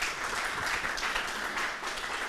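Applause from an audience at a youth forum on the electoral process, a dense, even patter of clapping heard from some distance, moderately faint and continuous throughout.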